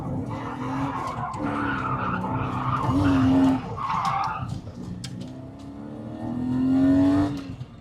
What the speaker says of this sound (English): That was the first time this car's ever been slid.